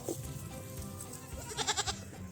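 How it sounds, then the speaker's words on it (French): Goats on a California hillside bleat in a short burst of several wavering cries near the end, after a quieter stretch of faint outdoor background. "On dirait que les chèvres essaient de se barrer."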